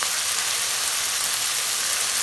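Chickpea and potato curry simmering in a pan gives off a steady, soft sizzling hiss, even and close, with no talk over it.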